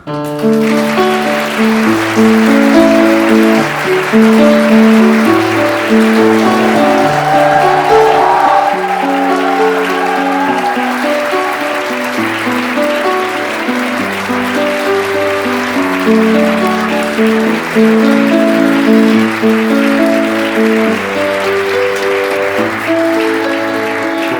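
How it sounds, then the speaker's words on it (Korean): Wedding guests in a hotel hall clap for the groom's entrance, steady applause running under loud ceremonial music that carries a clear melody throughout. "이 순간을 평생 기억하도록 힘찬 박수로 신랑을 맞아주시기 바랍니다."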